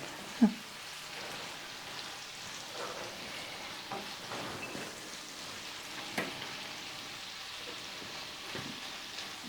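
Hamburger meat, already half browned, sizzles and crackles in a pan with a steady frying hiss, punctuated by a sharp clack near the start and occasional stirring scrapes, with no talk over it.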